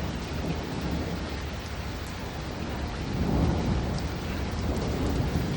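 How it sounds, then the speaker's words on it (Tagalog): Steady heavy rain pours down with deep rolling thunder rumbling beneath it in Edmonton, Alberta, swelling louder partway through; no voices. "Lakas daw ng kulog at kidlat eh."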